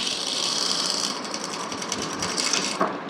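A sewing machine runs steadily while stitching a blouse seam about half an inch in, a continuous close mechanical whirr with fine rapid clatter, ending in a louder clunk at the very end.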